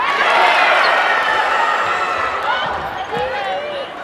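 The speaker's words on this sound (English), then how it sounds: "Crowd's getting excited" Crowd noise at an NCAA women's volleyball tournament match, a loud sustained roar of excited cheering and shouting in an arena that swells and then eases slightly, with an announcer talking over it.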